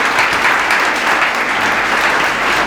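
An audience at an oratory program bursts into loud, steady, dense clapping that continues without pause.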